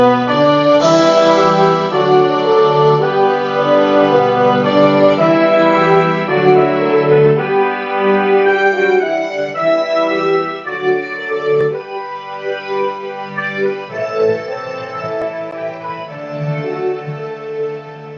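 A sustained orchestral passage with brass and a warm low-register foundation of trombone, tuba and double bass, chords shifting smoothly and steadily with no voices.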